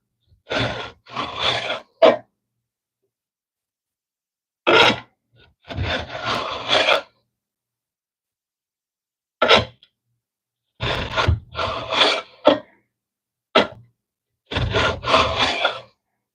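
Card scrapers being sharpened on both sides, heard as short bursts of rasping strokes separated by pauses of silence, close and moderately loud.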